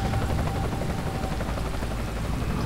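A helicopter in the video game Dead Island drones as a loud, constant rotor roar filling the short clip.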